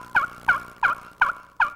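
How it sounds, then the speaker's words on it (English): A slate turkey friction call worked with a soft acrylic striker gives five evenly spaced, fairly close yelps in a steady rhythm, each a short raspy two-note note, with no voices. "I'm using an acrylic striker on this, which is a very soft material against the slate."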